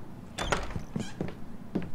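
In the video game Life Is Strange, a door creaks open in several close, squeaky groans that come in uneven bursts over about two seconds.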